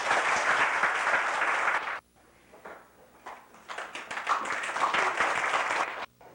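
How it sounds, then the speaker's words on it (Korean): A church congregation claps during an elder ordination service at Wangsimni Holiness Church, with a burst of steady applause, a brief lull, then a second long, dense round of clapping that fills the hall. "우리 먼저 이분들에게 박수를 한번 돌립시다."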